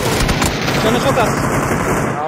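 Loud, close automatic gunfire in PUBG, a dense continuous burst of shots filling the moment with no pause.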